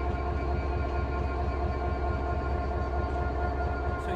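A steel freight train runs on the South Wales main line between Margam and Llanwern, giving a steady, loud rumbling roar with a faint tonal whine throughout.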